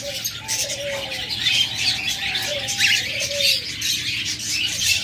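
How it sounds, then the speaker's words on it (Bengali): Cockatiels in a bird shop, among them a large master pair, give repeated short whistled calls over a constant bright chatter of many birds, moderately loud and without talk. "এরপর আরেক জোড়া মাস্টার পেয়ার ককাটেল জোড়া দেখাচ্ছি।"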